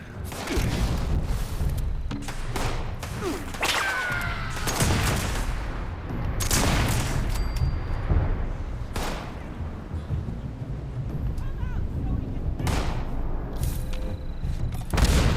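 Sniper and other gunfire in a video game: a dense, loud barrage of sharp shots and booming impacts throughout, with bursts overlapping against a constant noisy battle backdrop.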